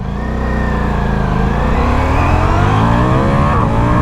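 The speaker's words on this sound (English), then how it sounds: "look at how fast it picks up through the revs, man" A 2024 Ducati Diavel V4 motorcycle engine revs hard while accelerating, its pitch climbing steadily in a loud, close, continuous roar with no voices.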